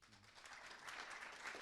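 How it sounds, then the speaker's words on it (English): A conference audience at a mobility data event gives a round of applause, a short burst of fairly faint, steady clapping from a crowded hall. "Should we give him a round of applause?"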